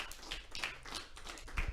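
Scattered, uneven handclaps from a few participants in a Zoom meeting, thin and close-miked, lasting under two seconds.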